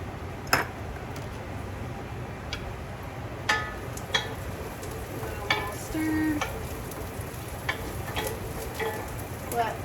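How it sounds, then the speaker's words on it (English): Celery and onions cook in a soup pot with Italian seasoning for chicken and gnocchi soup, making a soft, steady sizzle dotted with sporadic light ticks and pops. "Let the celery and onions cook down quite a bit."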